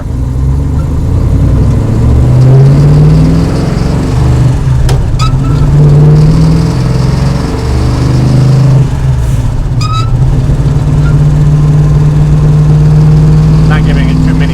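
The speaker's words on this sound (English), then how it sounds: "It's a very loud car." A 1970 Dodge Challenger R/T, an old original car, runs with a loud, deep engine note that swells and holds while driving, with people talking inside over it.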